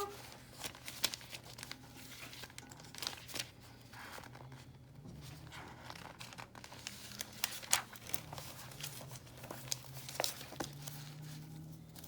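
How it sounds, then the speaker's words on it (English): Workbook pages being flipped, with soft crinkling and riffling paper rustles scattered across the span at low level over a faint steady hum. "if we'll go ahead and flip to page 22"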